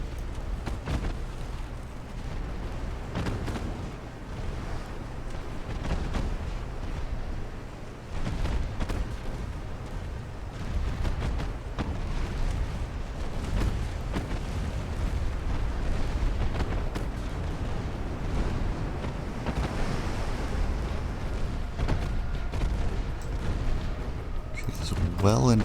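Naval gunfire and shell explosions rumble in the warship game Ultimate Admiral: Dreadnoughts, repeated deep booms and blasts layered over a continuous low roar of battle, loud and sustained throughout.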